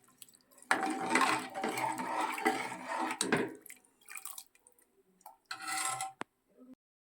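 A pot of rice with coconut milk and water comes to a boil for masala ghee rice, giving irregular bursts of bubbling, splashing and dripping. The bursts are fairly quiet and close, separated by short pauses, with no talking.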